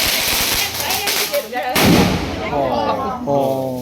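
A single loud firecracker bang bursts out sharply outdoors during a festival fireworks session, followed by a voice speaking over the lingering noise.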